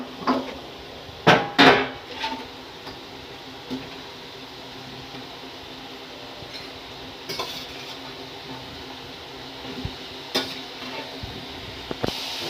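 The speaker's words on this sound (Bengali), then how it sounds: "ভালো মতন একটু কষাতে হবে।" Papaya and potato pieces with chili powder are stirred and fried in a pan, heard as a soft continuous sizzle broken by sharp scrapes and clinks of a spoon against the pan at irregular intervals.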